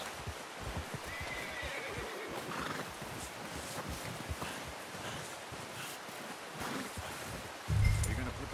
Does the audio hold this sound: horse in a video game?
yes